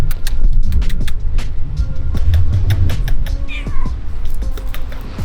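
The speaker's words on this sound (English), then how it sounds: "And there is a cat." A cat meows several times outdoors in a green, wooded spot in Cyprus, with steady background rumble from passing road traffic; no one speaks.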